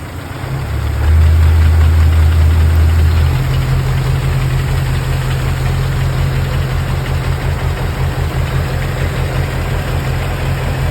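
A car engine idles steadily during a fuel-injector test, rising to a brief higher revving hum early, then settling into a loud, constant low drone close by.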